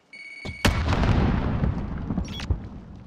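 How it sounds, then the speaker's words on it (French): A grenade is thrown and explodes in Call of Duty: Modern Warfare: a brief click and clatter, then a sharp, heavy blast that rumbles and decays over a couple of seconds, loud and close. "J'envoie une grenade."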